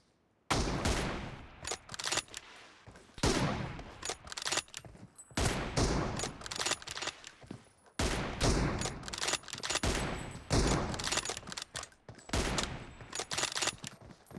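Rapid bursts of sniper and automatic gunfire in a 1v1 video game match with an M24 rifle, loud and close, firing in dense clusters separated by brief pauses, with no talking.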